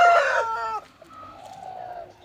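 Close, loud rooster crowing from fighting cocks with chickens nearby, a single strong call that fades into softer clucking and murmuring.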